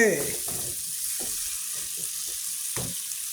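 Garlic and tomato sauté in hot oil in a pan as part of a dried-fish (karuvadu) dish, giving a steady close sizzle with soft scraping stirs. Faint speech-like sounds are heard near the start.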